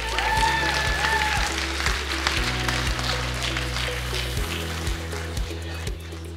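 Audience applause at a Master Marketing graduation ceremony for the 2023 class, a steady dense clapping sustained throughout, loud and close, with a low rhythmic hum beneath.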